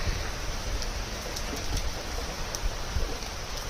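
Heavy pouring rain, a dense, loud and even hiss of water with scattered sharper drops close by, continuous throughout with no voices.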